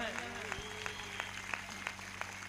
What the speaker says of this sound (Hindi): एक जोरदार ताली बजाकर, ये ताली आपकी गवाहियां हैं।